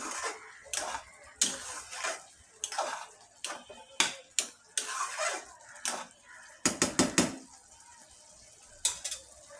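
A spoon stirs meat for biryani in a cooking pot, making sharp, irregular scraping knocks roughly every half second, with a quick cluster of clatters partway through.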